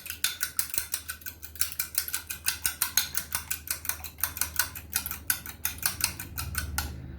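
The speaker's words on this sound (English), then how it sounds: "I've got 2 eggs. I'm going to slightly beat these." A fork or whisk clicks quickly and steadily against a bowl while two eggs are lightly beaten, a close, even rhythm of sharp taps with no talking.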